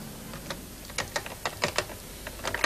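Keys struck on a new-design typewriter keyboard, a quick irregular run of sharp clicks close by over a steady background hiss.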